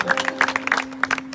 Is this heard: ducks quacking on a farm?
no